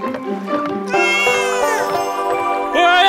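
A cartoon cat meows loudly in a long, wavering, drawn-out cry that rises and falls, then starts again with a fresh howl at the end.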